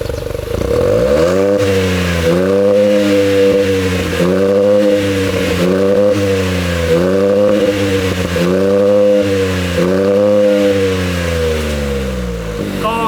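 Honda City hatchback 1.0 fitted with a JTC Super Sport exhaust, revved repeatedly in loud rising-and-falling bursts, about five throttle blips over a steady idle, heard up close with no talking.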